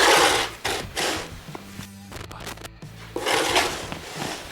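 Ryobi 40-volt 20-inch brushless cordless snow blower (RY40801) throwing snow on a driveway: a low electric motor drone beneath repeated rushing, scraping whooshes of snow being thrown, loud and close.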